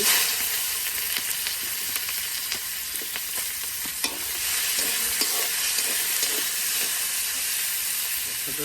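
Chopped onion frying in a hot pan in a rural Bengali village kitchen, a steady loud sizzle with occasional stirring scrapes, close up and without speech.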